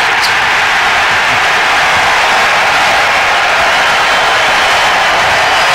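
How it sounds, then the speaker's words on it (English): Golf gallery at the 18th green erupting in cheers after Tiger's long putt, a steady, broad roar of crowd noise filling the whole stretch without pause. "And the crowd goes nuts."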